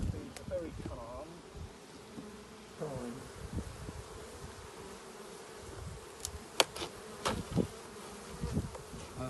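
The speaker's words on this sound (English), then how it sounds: "Notice the bees are very calm." Calm honey bees buzz in an opened hive at a Christmas tree farm, a dense, continuous close drone with occasional knocks of handling.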